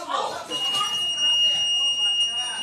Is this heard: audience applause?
no